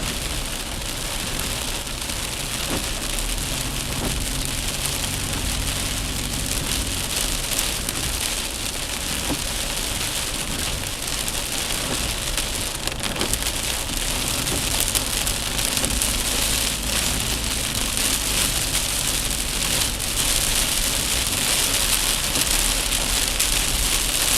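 Steady rain falls at a mountain campsite at Khao Yai in Thailand, drumming on surfaces in a dense, continuous patter. It stays loud and unbroken throughout, with no voices.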